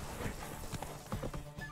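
The horse Roach gallops in The Witcher 3, hooves clip-clopping in a quick, steady rhythm at moderate distance, fairly quiet and without talk.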